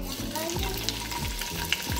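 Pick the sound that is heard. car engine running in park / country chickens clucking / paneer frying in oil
paneer frying in oil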